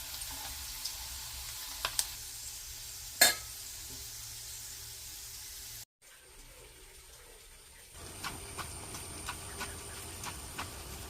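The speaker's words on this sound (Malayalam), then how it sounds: "എണ്ണ ചൂട് ആയ ശേഷം അരിഞ്ഞു വെച്ചിരുന്ന ഇഞ്ചി ഇട്ടു വറുത്ത് കോരി മാറ്റിവെക്കുക" Steady frying sizzle as chopped ginger fries in hot oil until brown, with a few sharp clicks, a brief cut, then quieter hiss with light tapping and scraping.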